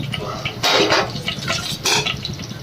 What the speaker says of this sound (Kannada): ಈಗ ಒಂದು ಸ್ವಲ್ಪ ಜೀರಿಗೆ ಸಾಸಿವೆ ಹಾಕ್ತಾಯಿದ್ದೀನಿ